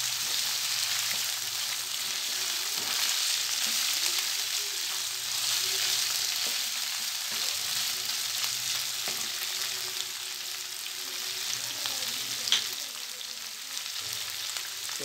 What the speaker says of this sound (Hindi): बेबी कॉर्न, थोड़ा सोते कर लेंगे।